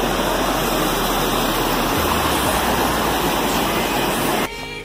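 The Cajonos river in the jungle roars continuously nearby, a dense steady hiss of rushing water, with a high insect-like whine over it and a sudden cut near the end.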